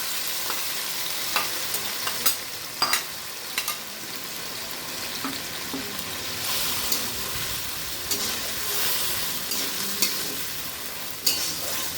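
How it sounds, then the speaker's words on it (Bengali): Mashed, boiled banana flower (mocha) is stirred with potatoes in a hot pan, with a steady soft sizzle of frying broken by scraping and knocking strokes from the spoon at irregular intervals. "এটার মধ্যে এবার ভালো করে এটাকে আমি মিশিয়ে দেবো। কিছুক্ষণ এটা একটু নাড়বো আমি।"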